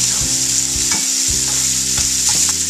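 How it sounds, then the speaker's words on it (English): Beef browning in a pan for beef bourguignon gives a steady, loud sizzle and frying hiss, with several soft stirring scrapes and a short dip in the sizzle partway through. "So I just want to kind of brown this up a little bit."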